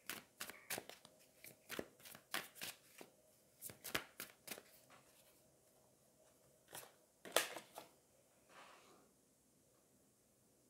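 Tarot cards being shuffled during a love reading, a series of quick papery riffles and snaps in irregular bursts, fairly close and alone, with a short pause before a final flurry.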